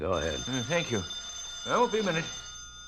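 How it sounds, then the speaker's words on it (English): A telephone rings with steady, bright tones in an old radio drama scene, heard faintly under men's conversation. "That's my phone."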